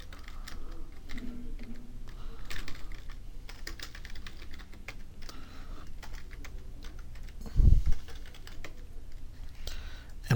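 Quiet, rapid clicking of keys on a computer keyboard as an address is typed, in irregular runs with brief pauses and one louder thump.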